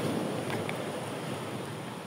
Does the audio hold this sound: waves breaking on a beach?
yes